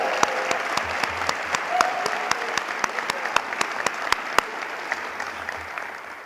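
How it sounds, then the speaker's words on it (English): An audience applauds a high school band and choir at a city address, steady clapping throughout with a few sharp louder claps standing out, no speech over it. "Can we give them a round of applause?"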